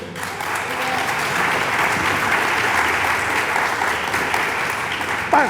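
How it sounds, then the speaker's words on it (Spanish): A church congregation claps steadily together during a sermon, a dense, loud wash of applause that holds evenly for the whole stretch before a brief swell at the end. "Dele palmas al Dios del cielo."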